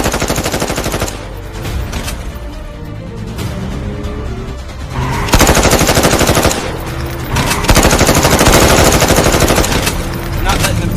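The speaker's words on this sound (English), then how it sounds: "They're shooting at us!" Rapid bursts of machine-gun fire aimed at a police patrol sedan, loud and close, sounding in dense volleys that swell and ease over the whole span, with a voice briefly heard amid the shots.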